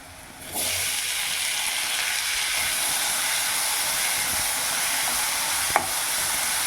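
Chopped tomatoes sautéing with onions in a pan for a dried seer fish thokku, giving a steady, close frying hiss and sizzle that holds evenly throughout, with one brief clink near the end.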